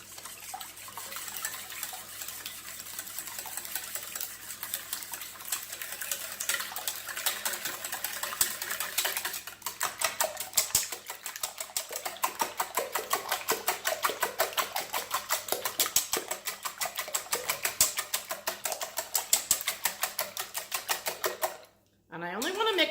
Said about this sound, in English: we're going to beat our eggs with our 1/4 cup of milk